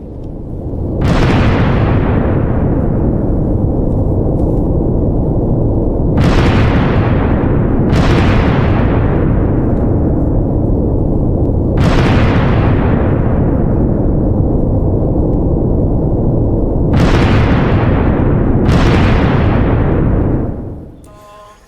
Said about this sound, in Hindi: ईरान के अंदर धमाके करके ईरानियों को दहला रहा है